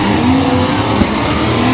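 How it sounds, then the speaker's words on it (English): Loud car engine roaring steadily at an Atlanta car meet, with a sustained rising tone and a brief rev spike partway through, no talking. "I wouldn't want my car that loud."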